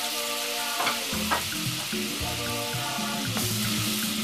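Chopped onion frying in salted butter in a pan for savoury rice, a steady close sizzle with occasional stirring scrapes and small pops, no voices.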